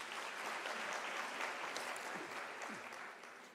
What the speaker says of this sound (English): Can we give them an applause, please?